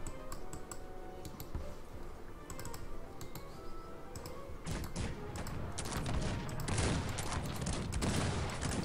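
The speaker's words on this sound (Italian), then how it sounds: "i cannoni li fanno saltare in aria questi" Massed musket volleys and cannon fire from a battle in the strategy game Cossacks III, dense crackling gunfire throughout that grows louder and heavier in the second half.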